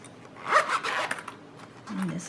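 Zipper on a fabric pencil carrier pulled open in a couple of quick, close rasping strokes, with a voice talking briefly near the end.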